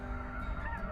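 Geese honk in a brief, dense burst over steady background noise during a goose hunt on the tundra.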